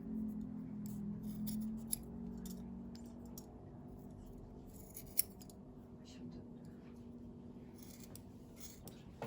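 Scissors snip close by at a gentle pace while trimming material for a bunny-themed nursery wall decoration, soft crisp cuts repeating over a quiet room with a faint low hum.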